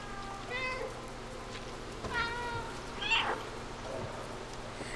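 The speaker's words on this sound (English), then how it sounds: "That was a chirpy meow." A cat in the video game Stray gives a few short, chirpy meows, fairly faint over quiet ambient game sound.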